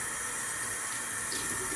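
Cold water runs steadily from a bathroom sink tap, a constant close hiss of flow with no talking over it.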